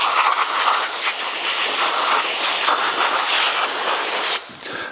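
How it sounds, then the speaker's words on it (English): Brake cleaner sprays in a steady, loud aerosol hiss over sandblasted hubs for a 1982 Jeep CJ7, continuous for over four seconds before cutting off abruptly near the end. "we'll give it a final rinse off with brake clean to make sure we don't have any residue oil"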